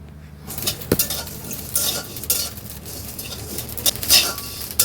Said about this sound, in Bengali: দেখুন চালগুলো কিন্তু ফুটতে শুরু করেছে তো এভাবে অনবরত নেড়ে ফেড়ে সব চালগুলো ভেজে নেব